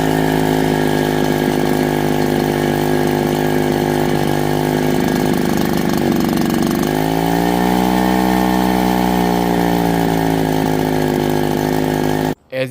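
A running HTK 63cc gas leaf blower roars loud and steady up close, its pitch dipping then revving higher midway before cutting off abruptly at the end.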